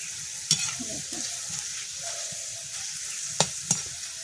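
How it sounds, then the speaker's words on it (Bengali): Homemade potato chips fry in hot oil with a steady sizzle, broken by a few sharp clunks and scrapes of stirring in the pan, heard up close with no talking. "অল্প করে চিপসগুলো দিয়ে দিচ্ছি, লাল লাল করে আমি ভেজে নেব।"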